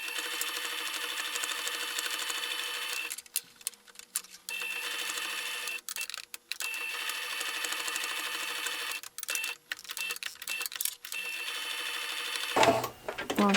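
A sewing machine stitches fabric in close, steady whirring runs with a fine mechanical buzz, stopping briefly several times before starting again.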